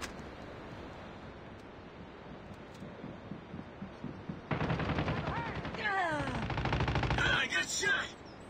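Automatic gunfire in Call of Duty Mobile, AK47 Stakeholder blueprint on a night map: a dense, loud rapid burst starts midway and continues to the end, following a quieter stretch of muted background noise with soft thuds.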